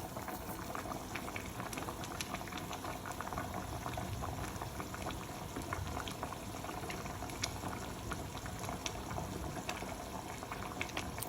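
African porridge boiling in a pot on the stove, a steady bubbling simmer with continuous fine popping and gurgling, moderately loud and close, with no voices over it.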